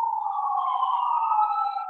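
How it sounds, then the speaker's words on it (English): A steady wailing siren from emergency vehicles outside sounds alone and moderately distant, holding a continuous tone with slight pitch waver throughout. "Sorry, there's a lot of sirens."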